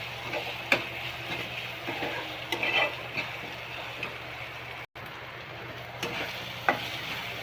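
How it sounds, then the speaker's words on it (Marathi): Ginger garlic paste sautéing with soybean bhurji in a pan: a continuous close sizzle with occasional sharp ticks of a spatula stirring against the pan. "अद्रक लसूणचा उग्र वास जाईपर्यंत परतून घ्यायचं."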